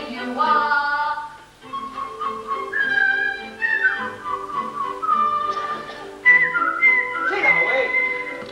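A man whistles a melodic tune, clear and close, phrase after phrase with short pauses, as part of a stage musical performance of The King and I.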